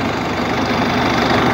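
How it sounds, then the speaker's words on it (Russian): A tractor's diesel engine idles just after starting, a loud, steady low rumble that holds evenly with no talk over it. "Трактор завел."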